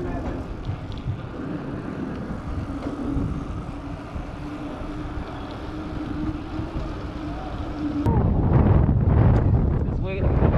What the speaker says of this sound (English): This wind is going against me too